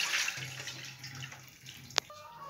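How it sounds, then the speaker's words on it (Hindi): Soaked moong dal is drained through a strainer, giving a steady rush of running water with splashing that fades, then a sharp single drip or clink near the end. "तो इस दाल को अभी अच्छे से पहले तो हमें पानी से अलग कर लेंगे, छन्नी से।"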